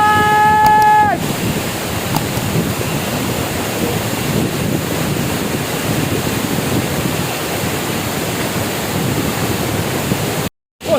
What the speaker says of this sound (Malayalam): ഇത്രയും വലിയൊരു വെള്ളച്ചാട്ടം ഉണ്ടെന്നാ ഞാൻ പ്രതീക്ഷിച്ചില്ല